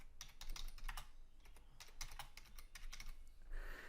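Text being typed on a computer keyboard: quiet, close bursts of rapid key clicks in quick runs with short pauses between, no voices.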